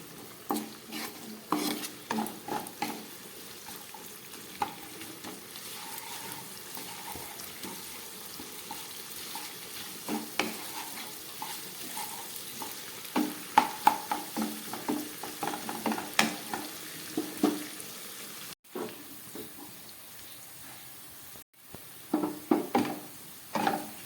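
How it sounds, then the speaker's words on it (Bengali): Capsicum and carrot fry in a pan while a utensil stirs and scrapes them in frequent irregular strokes over a soft continuous sizzle, with a brief pause near the end. "ক্যাপসিকাম গাজর খুব ভালো করে ভেজে নিলাম।"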